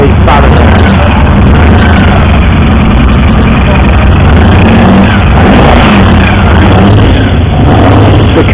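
Reconditioned Jaguar XJ12 V12 engine running on a test bed with quiet tappets, a loud, steady, close rumbling idle that continues unbroken throughout.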